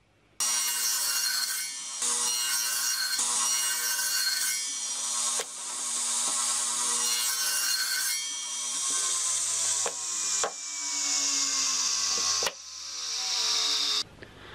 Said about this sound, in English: And I'm going to cut 4 boards, 17 and a half inches.